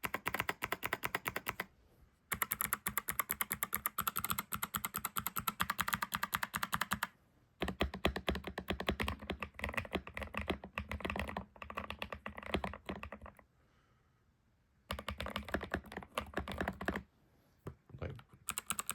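Clicky switches on a James Donkey J2 mechanical keyboard, typed in fast continuous bursts with brief pauses between runs, close and crisp with no talking.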